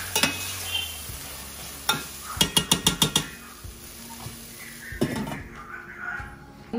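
Mustard seeds splutter and pop in hot oil in a home kitchen pan, a quick run of sharp crackling bursts amid softer sizzling and occasional utensil clinks, close and fairly quiet.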